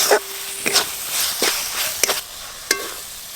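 Spices fry in a pan while being stirred for a cabbage and egg dish, with a steady hiss broken by repeated scraping strokes of the spoon, close and moderately loud.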